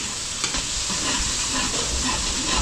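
Garlic, onion and pansit ingredients sauté in a hot pan in a restaurant kitchen. A dense, steady sizzle and frying hiss runs throughout, with a few faint stirring clinks and no talk.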